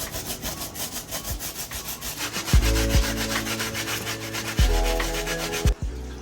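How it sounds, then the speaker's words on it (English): Brass bristle brush with cleaning solution scrubbing the outsole of a New Balance 2002R sneaker, a steady loud rasping back-and-forth rub with a few sharper knocks, close and without speech. "I'm going to use my brass bristle brush with the same solution."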